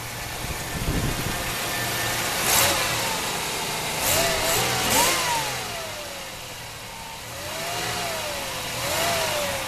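A 1992 Oldsmobile Eighty Eight Series 1, around 170 horsepower, runs outside at idle. Several rising and falling revs swell over the steady engine rumble, with no talking.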